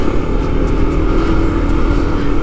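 A motorcycle with a loud exhaust passes on a road in Majalengka, Indonesia, a rumbling roar held steadily throughout, a deep droning motor sound with no speech.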